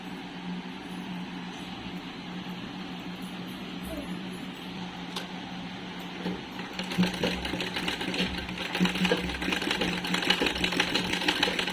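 A sewing machine stitches a cap onto a doll's sari made from blouse fabric scraps, starting with a quiet whir and then running louder and faster in a close, steady rattling buzz.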